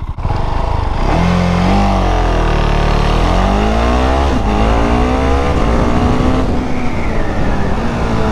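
Husqvarna Svartpilen 701 motorcycle accelerating hard from a standstill to 100 km/h, loud close engine roar climbing in pitch through several gear changes, rising and dropping repeatedly.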